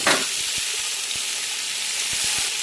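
Onions frying in hot oil for a chicken biryani, a steady loud sizzle that stays even throughout, with faint scraping stirs ticking underneath.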